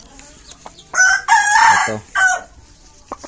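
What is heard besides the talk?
chicken clucking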